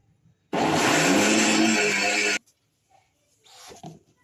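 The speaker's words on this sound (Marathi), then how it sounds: "पुन्हा एकदा मिक्सर चालू करायचं आपल्याला" A mixer grinder roars loudly for about two seconds with a steady high whir while grinding soaked lentils into idli batter, then cuts off, followed by faint clattering and quiet handling sounds.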